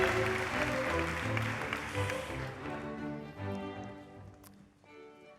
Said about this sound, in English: a warm applause for all winners in category Research